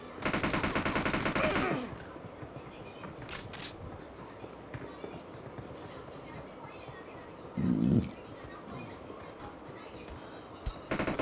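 Rapid automatic gunfire in the battle royale game PUBG rattles loudly in a sustained burst, then a second short burst follows later under ongoing game sounds and someone talking.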